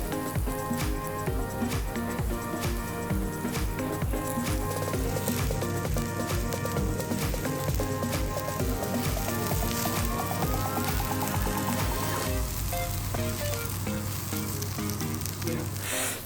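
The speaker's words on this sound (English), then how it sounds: "everything's gonna be grilled on a hot stone" Thick lean beef cut and garlic sizzle loudly and steadily on a hot stone grill at a Korean BBQ stall in a Seoul street market, a dense continuous crackle close up with occasional clinks.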